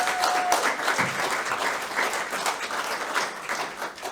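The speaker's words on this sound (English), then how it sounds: "One more time, everyone, round of applause for Ray Pollock." A library audience gives a storyteller a full round of applause, dense steady clapping filling the room for several seconds.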